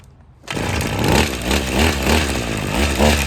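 A Redmax HEZ 3060 two-stroke engine catches and runs at half choke after a pull start, a loud, steady buzzing drone that rises suddenly from near silence and keeps going with slight wavering.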